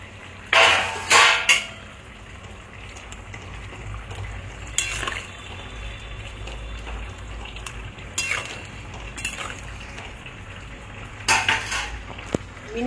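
Fried tangra fish tipped into a simmering curry with potato and aubergine in a pot and stirred, giving a few sharp clatters of utensil against metal over a steady low bubbling and sizzle, close and alone.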